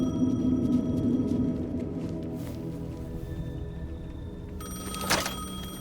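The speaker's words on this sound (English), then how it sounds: "The payphone was ringing." A payphone rings in the Alan Wake 2 video game, its repeated electronic trill fairly clear over a low droning ambience, with a brief sharp knock near the end and no voices.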